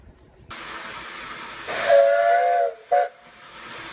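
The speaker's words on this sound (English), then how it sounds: "If you've ever been on one of these steam railways in the United States" A steam hiss builds, then a steam locomotive's whistle on the Welsh Highland Railway sounds in a long blast followed by a short second toot, with a hissing background throughout.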